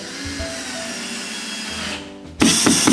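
A power drill drives screws through handrail brackets into wall studs, a continuous motor hum that pauses briefly before a louder, grinding burst of driving, no talk.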